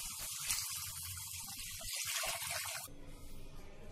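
Water runs in a splashing stream into a cooking pot for raw mango rasam, fairly close and soft, then gives way to a quieter, thinner trickle toward the end; no one speaks.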